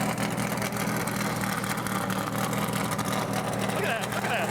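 A NASCAR Sprint Cup race car in the Bristol garage rumbles steadily from close to its exhaust pipe, a loud, even idle with no revving, while someone talks over it.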